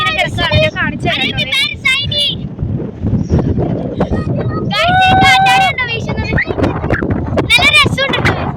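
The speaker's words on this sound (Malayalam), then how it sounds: "ഭയങ്കര കാറ്റാട്ടോ, നല്ല രസമുണ്ട്." Gusty sea wind at Marina Beach, Chennai rushes and rumbles close to the microphone throughout, sitting beneath steady nearby talk.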